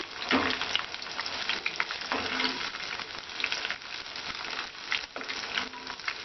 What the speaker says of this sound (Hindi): और ये देखिए अच्छे से ये फ्राई हो रहे हैं।